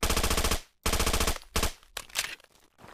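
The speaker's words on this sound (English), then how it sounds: "it is just really cool firing this thing fully automatic" An OTs-33 Pernach pistol fires fully automatic in Fallout 4. Several rapid, loud bursts ring out, each a tight rattle of shots, separated by short gaps, with no talk.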